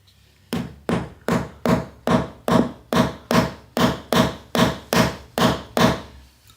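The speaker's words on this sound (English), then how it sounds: "using a hammer I can make sure they're nice and tight" A hammer taps wooden plugs into stripped screw holes of a door hinge in a steady run of about fourteen sharp, evenly spaced taps, close and loud, with no talking.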